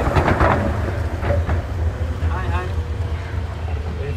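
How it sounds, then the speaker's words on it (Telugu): A toy train at Nehru Zoological Park in Hyderabad rolls in with a low, continuous rumble, while faint voices and outdoor crowd noise mix in around it. "ట్రైన్ అయితే వస్తుంది చూడండి, టాయ్ ట్రైన్."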